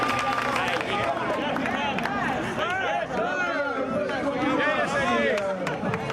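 Audience applause in a lively indoor crowd, clapping mixed with loud overlapping chatter and cheerful voices throughout, dense and close.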